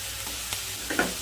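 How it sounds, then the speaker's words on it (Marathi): Onions with salt and sugar fry steadily in a pan, a soft continuous sizzle broken by a couple of brief stirring scrapes near the end. "आपण 7-8 कांदे घेतलेले आहेत ते भाजून घेऊया"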